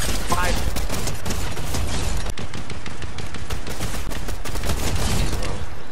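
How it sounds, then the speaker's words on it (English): Gunfire in the video game Fortnite, including shotgun blasts, as a loud, dense string of shots and impacts with players talking over the action. "Did you just shoot a shotgun at him?"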